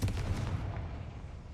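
A Confringo fire-blast spell explodes in the Hogwarts Legacy video game: a short, muffled boom with a rumbling burst that quickly fades, heard fairly quietly.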